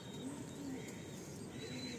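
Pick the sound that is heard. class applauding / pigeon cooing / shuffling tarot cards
pigeon cooing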